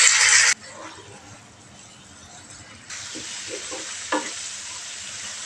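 Ground spice paste hits hot oil with fried shallots in a pan, a loud burst of sizzling that drops back, then swells into steady frying hiss with a few stirring scrapes.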